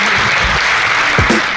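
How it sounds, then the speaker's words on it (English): A seminar audience applauds in a short burst of dense clapping at a fairly loud, even level, with faint low sounds underneath. "Everyone could please give them a huge round of applause."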